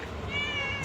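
A cat gives a single drawn-out meow close by, clear and moderately loud over a low background hum.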